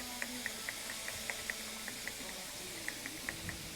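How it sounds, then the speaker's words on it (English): Faint hissing with soft, regularly spaced little pops as water sizzles in a hot pan with beef, quiet and continuous. "we're just gonna add it in there like this. You can hear it sizzling"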